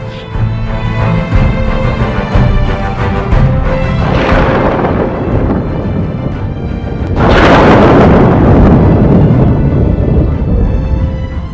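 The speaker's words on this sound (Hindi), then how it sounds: "महज 5 सेकंड के अंदर ही कंक्रीट की ठोस इमारत देखते ही देखते मलबे में बदल गई।" A solid concrete building, already split by Cyclone Yaas and heavy rain, collapses into rubble with a loud, continuous crashing rumble that swells in two heavy surges of roaring debris and dust-laden thunder.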